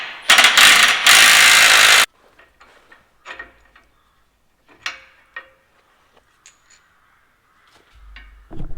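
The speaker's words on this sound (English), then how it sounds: "Got the Milwaukee, it's been blooming handy, this socket thing, sort of 1/2-inch socket gun." Milwaukee half-inch cordless socket gun on a farm bolt: a loud, close burst of whirring and rattling for about two seconds, then quiet clicks and light clanks of tools.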